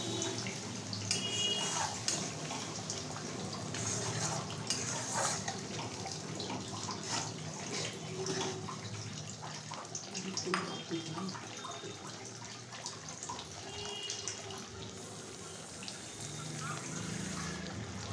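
Water poured and bubbling into a pan of yogurt fish curry gravy, a faint ongoing trickle and simmer with scattered clinks, under low background noise.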